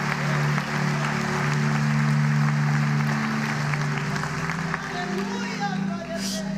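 Church congregation applauding at a Portuguese-language worship service, a steady dense wash of clapping and crowd noise that sustains for several seconds with low sustained tones underneath.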